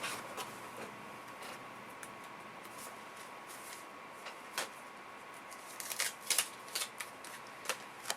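Scissors cutting printed paper flowers from a sheet, faint scattered snips and paper rustles over a steady background hiss, growing into a quick cluster of louder clips near the end, no voices.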